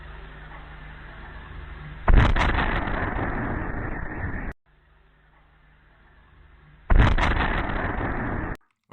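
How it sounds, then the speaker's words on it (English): Explosions from drone strikes near the Dyagilevo airbase in Russia: two loud, distorted blasts, each swelling into a roaring rumble that lasts a couple of seconds before cutting off, on a low-quality recording with background hiss. "You're going to hear some explosions in the background."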